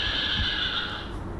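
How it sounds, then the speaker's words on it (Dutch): A horse gives a single high, shrill whinny, moderately loud against low background rumble, with no talk. "Ik hoor wel een paard."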